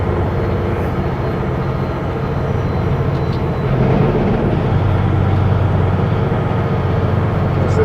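Super B truck rolling down a steep 6% grade, its engine dropping through a downshift with a steady low drone and road rumble, loud and continuous with no talk.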